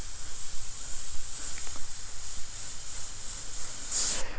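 A MASTER S62 siphon-fed dual-action airbrush sprays in a steady, airy hiss that holds evenly, then swells into a louder, fuller rush just before the end.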